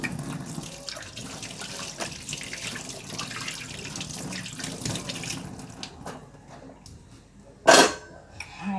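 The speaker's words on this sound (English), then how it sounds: "Washing my hands, guys." Tap water running into a sink during hand washing in a home kitchen, a steady soft rush with small splashes, ending in a sharp louder clatter near the finish.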